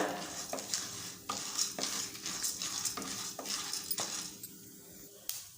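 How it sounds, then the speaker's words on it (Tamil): Toor dal dry-roasting in a pan with fenugreek seeds and black pepper, stirred with a spoon in a regular rhythm of scraping strokes over a faint sizzle, with light metallic clinks. "பருப்பெல்லாம் கொஞ்சம் செவக்க வறுபட்டு வர ஆரம்பிக்குது இந்த டைமில் நம்ம எடுத்து வச்ச வெந்தயம் மிளகு ரெண்டையும் ஆட் பண்ணிடலாம் சேர்த்துட்டு கலந்து விட்டுக்கோங்க"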